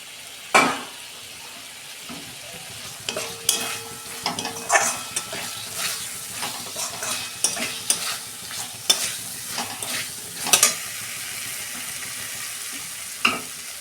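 Fried potatoes going into a simmering cabbage and lentil curry give a soft sizzle, while a spoon scrapes and knocks around the pot in short, irregular strokes close by.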